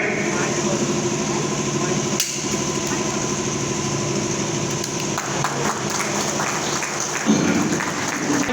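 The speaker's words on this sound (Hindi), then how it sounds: "जोरदार तालियों से स्वागत किया जाए" Steady, dense applause from a gathered crowd welcoming guests being garlanded at an All India Advocates Welfare Association event, continuous throughout with a faint steady hum underneath and no clear talk.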